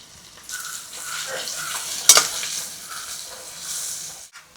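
Onions frying with fennel in a pan, a continuous soft sizzle with scraping stirs and a brief metallic clink midway, close and moderately loud, with no talk over it.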